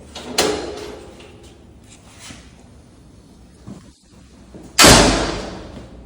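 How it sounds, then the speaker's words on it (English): Bolts of a high-security barred gate sliding into place at top, side and bottom, heard as a sharp metallic clack early on, softer mechanism clicks, and a loud final slam-like thud near the end. "bolts operate within the bars. Which locks top, side here, and bottom as well."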